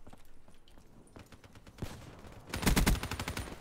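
Gunfire in the video game Black Ops 3, scattered single shots building into a loud, rapid automatic burst near the end, crisp and close.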